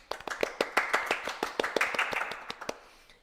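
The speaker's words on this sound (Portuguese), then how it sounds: "Palmas para a Lohane." A small group clapping in a podcast studio to welcome a guest, a few people's crisp, separate claps in quick rhythm, close and clear, thinning out and stopping after about three seconds.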